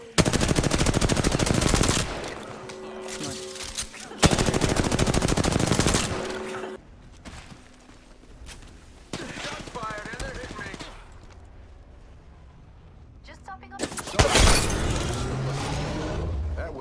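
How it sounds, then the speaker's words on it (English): Automatic gunfire in a video game, probably Apex Legends, heard in several long, loud rapid-fire bursts separated by quieter gaps, with shattering sounds and a voice speaking in between. "Firing. Shots fired."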